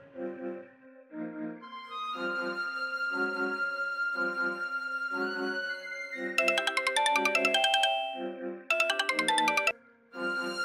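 Phone ringtone of an incoming call, a repeating electronic melody of clear tonal notes that builds into brighter, busier bursts over about ten seconds, fairly faint and alone.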